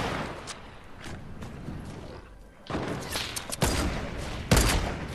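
Gunfire in the video game Fortnite: several loud, broadband shots and bursts in quick succession, with a sharp, heavy crack near the end, over a steady game background.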